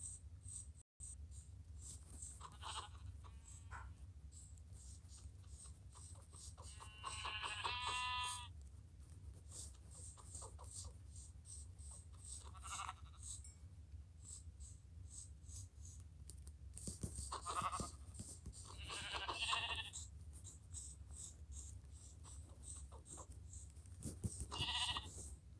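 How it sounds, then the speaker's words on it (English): Sheep in the Minecraft game bleat several times in short bursts spread over a long stretch, faint against a steady background hum. "Sheeps."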